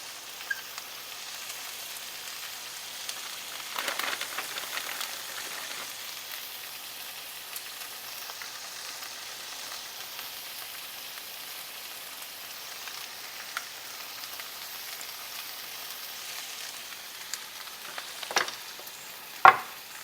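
Crushed garlic cloves sizzle quietly in a pan at a Labor Day cookout, a steady soft hiss throughout with a few brief louder scrapes and clatters near the middle and end.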